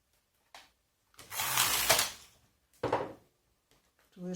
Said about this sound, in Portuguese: Passo a máquina para modo circular nas duas camas e faço 2 voltas.